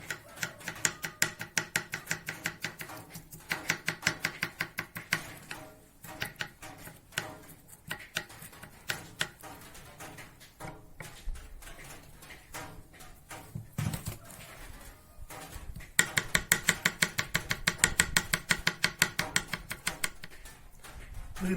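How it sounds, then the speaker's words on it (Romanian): Garlic cloves being chopped with a knife on a board for a pork soup cooked in a cauldron: rapid, crisp rhythmic knife strikes in bursts, close and fairly loud, with short pauses between runs of chopping. "mărânțăm câțiva căței de usturoi"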